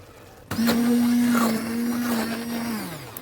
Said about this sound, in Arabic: هنبتدي نحاول نضربها بالهاند بلندر او في الخلاط